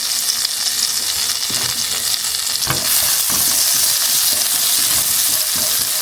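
Vegetables sizzle and fry in a hot pan in a home kitchen, a steady loud crackling hiss with stirring clatter and a brighter burst as more food goes in.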